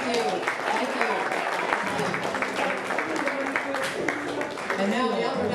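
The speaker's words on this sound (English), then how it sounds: "Big round of applause for all of you" An audience at a Pi Day gala in the Lawrence Community Theater applauds with sustained, dense clapping throughout, with voices mixed in underneath.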